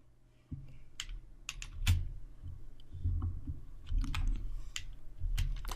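Keys clacking on a computer keyboard while a math entry is typed into the Python IDLE shell, a close, irregular run of soft clicks and thumps that starts abruptly and carries on steadily without talk.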